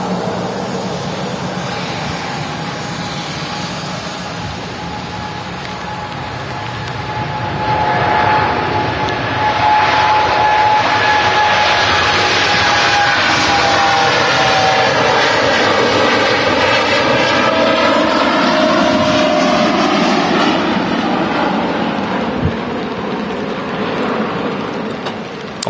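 A Boeing 787-9 jet departing Manchester Airport for Melbourne, Florida roars steadily, swelling louder midway with a whining engine tone that slides downward as it passes, then slowly fades at a distance.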